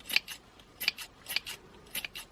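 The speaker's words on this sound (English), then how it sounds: "These scissors are not very sharp." Not-very-sharp scissors snipping yarn while a two-color pompom is trimmed for a crochet hat, quiet crisp snips in pairs, about four clusters spaced evenly.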